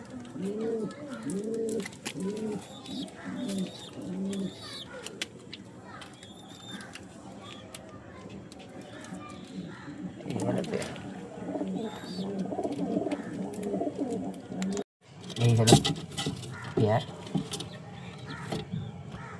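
Madras pigeons cooing in repeated low, rhythmic phrases close by, with someone talking over them and a louder burst of mixed noise near the end.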